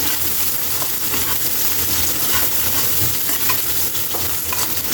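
Ingredients sautéing in hot cooking oil for pork liver adobo, a steady, close sizzle and crackle with stirring scrapes running throughout, no talking.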